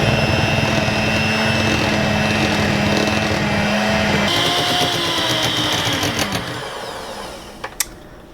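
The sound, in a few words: blender mixing marshmallow fruit dip ingredients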